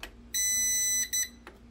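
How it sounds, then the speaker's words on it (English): A CyberPower 1500PFCLCD UPS battery backup with a dead battery beeps: a loud, shrill electronic beep once for most of a second, followed by a shorter second beep. "it just beeps"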